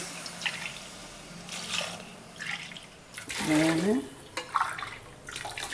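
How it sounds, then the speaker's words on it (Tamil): Water is poured from a tumbler into rice in a pot for egg dum biryani, with several short splashing pours amid a person's speech. "இப்போ நம்ம இதில் தண்ணி விடலாம்"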